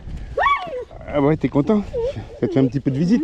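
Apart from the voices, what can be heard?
large dog whimpering and yipping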